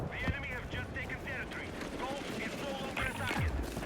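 Gunfire in the video game Battlefield 6, sharp shots and short bursts popping through the clip, with a louder cluster of cracks near the end, mixed under ongoing talk.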